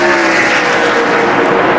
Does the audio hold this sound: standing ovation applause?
no